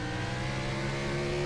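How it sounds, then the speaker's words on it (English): A stock car engine at Brands Hatch during a Vertex Stock Car Cup race drones loudly and steadily up close. No distinct overrun pops or bangs stand out. "The pops and bangs on the overrun sound great as well, don't they?"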